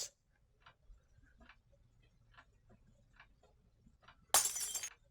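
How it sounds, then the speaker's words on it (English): A drinking glass knocked off a desk hits the floor and shatters in one sudden, bright crash near the end, after a stretch of quiet, soft ticking. "Boss, did you swat your glass off the desk again?"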